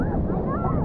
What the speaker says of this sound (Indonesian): angin tiup kita orang punya fly sheet ni agak kuat jugalah angin